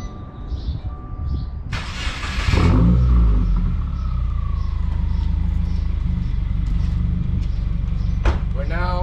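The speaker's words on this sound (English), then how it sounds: "So I'm gonna go ahead and start the engine for you guys." A Subaru WRX STI with an ETS cat-back exhaust starts up with a loud burst, then settles into a deep, steady idle rumble close by, with brief talk before the start.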